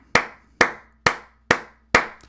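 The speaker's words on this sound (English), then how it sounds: "I have to clap it up for the players" Five sharp hand claps at an even, unhurried pace, close and crisp with short decays, nothing else around them.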